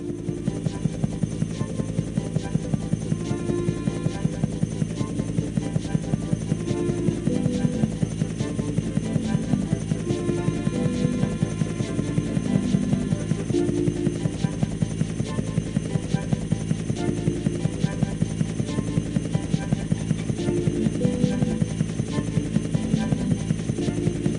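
Continuous engine drone of a biplane flying in the Thomas & Friends: Trouble on the Tracks game, a steady loud buzz running the whole time alongside repeating game music, with no talking.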